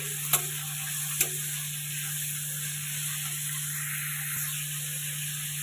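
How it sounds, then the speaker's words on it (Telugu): Chopped onions hit hot oil and fry with a steady bright sizzle, two sharp clicks of a spoon against the pan early on, close and even, with no talking. "ఇప్పుడు నూనె అనేది వేడెక్కిపోయింది ఇందులో మనం ఇంతకుముందు కట్ చేసి పెట్టుకున్న ఆనియన్స్ వేసుకోవాలి ఒకసారి కలుపుకోవాలి"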